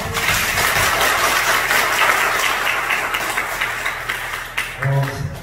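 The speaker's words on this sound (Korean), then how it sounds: "오늘 미팅의 정석은 큰 박수로서 일단 마치도록 하겠습니다" Big round of audience applause closing a sales meeting talk, dense and steady for several seconds before thinning out, with a brief voice near the end.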